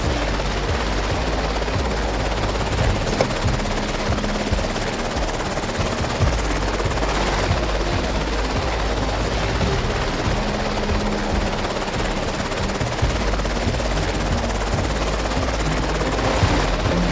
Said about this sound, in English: I see the helicopter moving.